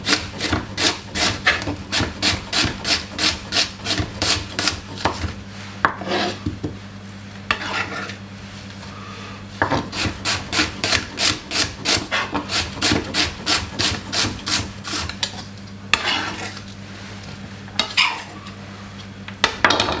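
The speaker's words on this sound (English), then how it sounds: "You want to make sure cut up your onion and get it ready and prepare." A knife chopping white onions on a wooden board, rapid rhythmic knocks in several runs separated by brief pauses and scraping, close and crisp with no talking.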